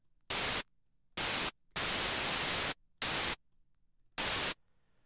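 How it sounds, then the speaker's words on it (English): Bursts of loud white noise, the hiss layer in an EDM track, sound in five separate blocks of differing length, each starting and stopping abruptly, with near silence and a low hum between them. "by definition white noise has no pitch, it doesn't matter where we put it"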